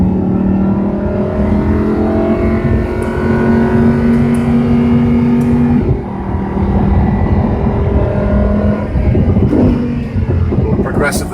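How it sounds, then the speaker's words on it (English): A car on the Monticello race track holds a loud, continuous engine drone that rises and falls in pitch as it moves through corners and changes speed, with a voice talking over it. "Navigate the car through the corners."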